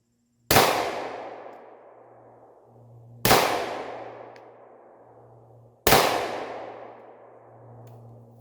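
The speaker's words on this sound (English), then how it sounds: "we're going to take a few rounds here, and we'll see where we're hitting so we can get this thing sighted in" Three loud, sharp shots from a Ruger 5.7 pistol ring out outdoors, spaced a few seconds apart, each followed by a long decaying echo and a faint metallic clang off a steel gong target.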